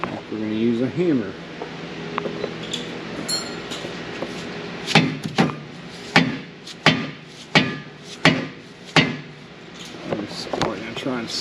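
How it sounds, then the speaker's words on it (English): A voice speaks briefly, then a hammer strikes about ten times in a steady rhythm of sharp, loud, close knocks, driving out a C3 Corvette trailing arm bushing. "We're gonna use a hammer."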